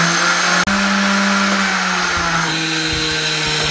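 A kitchen blender grinds gram flour (besan) with water. It gives a loud, steady whir that stops for a moment, then starts again and settles into a constant motor drone.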